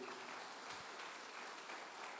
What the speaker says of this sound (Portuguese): As palmas para Ele.